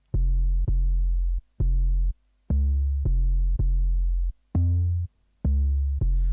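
Deep 808 bass with its attack turned down so each note hits like a kick, a series of loud, booming sustained notes in a syncopated pattern with short gaps, alone and close, in a jungle production setting.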